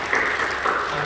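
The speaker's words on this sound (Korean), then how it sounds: "우리 박수로 격려해 주시죠." A church congregation applauds together, a brief, even burst of clapping from many hands in a large room.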